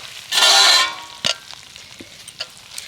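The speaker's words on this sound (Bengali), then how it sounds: "উনান থেকে নামানোর পরেও কিন্তু অনবরত এইভাবে কিছুক্ষণ নাচতে হবে নাড়তে নাড়তে একদম শুকনো হয়ে যাবে" Thickening sugar syrup for goja is stirred in a wok, with a loud scraping sweep near the start followed by softer, scattered stirring scrapes and clicks close by.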